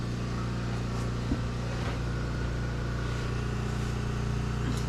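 A snowmobile engine idling or running steadily close by, a loud continuous low droning rumble with a few small knocks and no speech.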